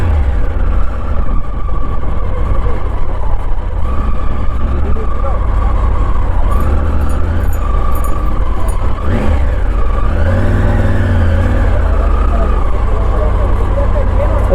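An adventure motorcycle's engine revs and rumbles loudly and steadily close by near the sea, with a rising sweep midway and deep low-end throb throughout.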